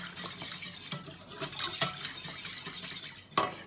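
Water and cornstarch stirred in a saucepan with a spoon that scrapes and clinks softly against the metal, making a quiet irregular rhythm with a few sharper taps, and no one speaking.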